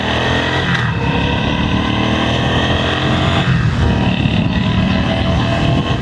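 Yamaha V-Star cruiser motorcycle pulling away under acceleration, a loud, close, continuous engine roar that holds steady and rises slightly in pitch over several seconds, with no talking.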